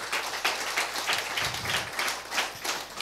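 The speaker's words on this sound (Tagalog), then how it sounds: "malakas na palakpak sa ating Panginoon" A church congregation claps for God during a Filipino service, a faint, distant patter of applause with a rhythmic, pulsing quality over a low background hum.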